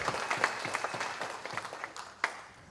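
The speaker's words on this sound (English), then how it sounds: "Can we get one more round of applause for Paloma, please?" Audience applause at a symposium, a medium-sized crowd clapping with scattered individual claps standing out, moderately close and steady, then thinning toward the end.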